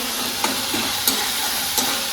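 Food sizzles steadily in hot oil, a close constant hiss broken by occasional sharp spattering pops.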